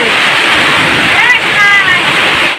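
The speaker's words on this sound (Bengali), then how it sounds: "আর দেখো টিনের জলগুলো পড়া দেখে বুঝতে পারবে কত জোরে বৃষ্টি হচ্ছে।" Heavy rain pouring off a tin roof, a dense, loud continuous rush of falling water with splashing throughout, close by, with faint voices underneath.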